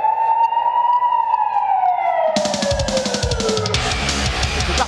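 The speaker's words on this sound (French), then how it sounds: "5 secondes et le jingle." A start signal for an elite-class e-trophy race at Lans-en-Vercors: a loud electronic siren-like tone sweeps slowly downward, then a burst of dense rhythmic electronic pulses takes over, heard alone without talk.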